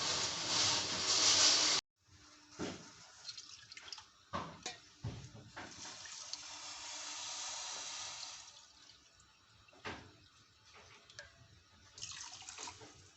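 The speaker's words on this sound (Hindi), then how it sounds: "ये 3 कप मैंने पानी डाल लिया है" Three cups of water pour into a pot on a lit stove for jalebi sugar syrup, a brief hissing gush at the start followed by quieter clinks, splashes and handling noises.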